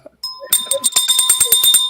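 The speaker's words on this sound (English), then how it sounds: "but Tally, ring the bell every time someone says he gets it" A bell is rung during a program meeting, giving a sustained bright ringing tone that carries on as people talk and chatter over it.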